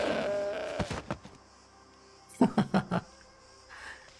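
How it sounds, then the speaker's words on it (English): A sheep in the New World video game bleats, then a short burst of rapid bleats follows as it is blown up by a sticky bomb. The calls are loud, near and separated by quiet gaps. "And you'll see the sheep explode."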